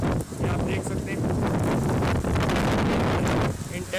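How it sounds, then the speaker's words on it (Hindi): Strong gusting wind buffets the microphone in a loud, continuous roar during a rainstorm in Karachi, with a hiss of rain mixed in. "बारिश हो रही है और तेज़ हवाओं के साथ ये आप देख सकते हैं"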